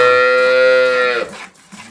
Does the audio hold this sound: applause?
no